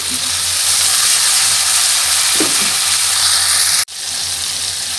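Onion, chili and tomato fry loudly in a pan, a dense, close sizzle with a brief stirring clatter midway before the sound cuts out sharply and resumes slightly quieter.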